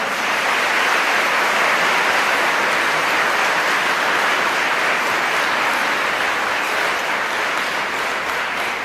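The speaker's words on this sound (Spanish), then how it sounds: "Fuerte el aplauso." Loud, continuous audience applause at a national debate competition event, a thick unbroken roar of many hands clapping that stays level throughout.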